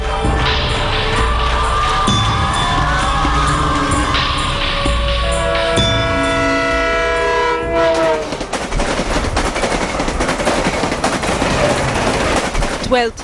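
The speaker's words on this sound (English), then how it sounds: "Her train arrives and she tries to jostle into the crowded compartment like many others." A Mumbai suburban train pulls into crowded Ghatkopar station, its loud horn blaring for several seconds before giving way to rattling, clattering wheels and carriage noise close by, with station crowd murmur beneath.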